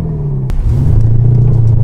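Mercedes W213 E350d diesel driving in sport mode, a loud steady engine drone heard from inside the cabin that rises slightly in pitch as it pulls, with no talking.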